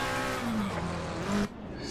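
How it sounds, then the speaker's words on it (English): A McLaren race car in Assetto Corsa Competizione, set up for Monza, wails with a loud, high engine note that rises and dips across a gear change, then cuts off sharply into quieter running. "There's that horrible McLaren sound."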